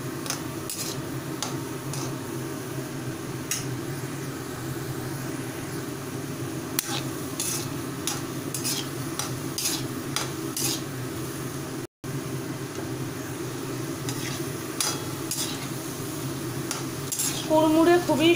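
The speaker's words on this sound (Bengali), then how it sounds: "এবারে ভালোভাবে ফ্রাই করে নিচ্ছি।" Banana nimki fry in hot oil in a pan, giving a steady close sizzle and bubbling with occasional light clinks of a utensil throughout.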